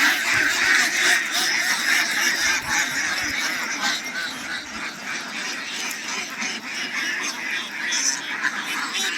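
A dense flock of about a thousand native ducks on a duck farm quacks and honks continuously, many birds calling at once in a loud, overlapping chorus with no pause.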